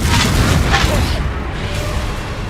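Booming spell blasts in a Harry Potter wizarding video game, a loud continuous roar of explosions with heavy low rumble that swells and fades across the whole stretch.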